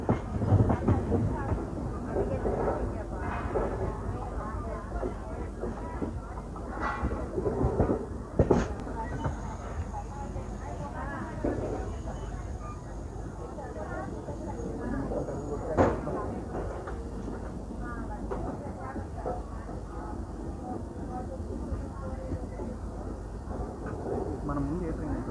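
The Secunderabad Guntur Intercity SF Express rumbles along the rails, with a continuous heavy rolling noise and occasional clacks and knocks, while people talk over it.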